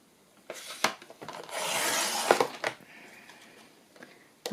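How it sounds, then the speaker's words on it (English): Scissors or a blade trimming a paper butterfly cutout free, close-up rasping and rubbing strokes in short bursts with a longer steady cut in the middle, quiet and without talking. "So I just have to cut it free. So I'll just trim along here."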